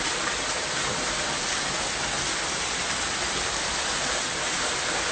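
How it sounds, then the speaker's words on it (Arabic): Heavy rainwater pouring down off a building during a mountain storm in Lebanon, a steady loud wash of splashing water that stays constant throughout, with no voices. "سمعون صوت المي وهو ينزل من البناية؟"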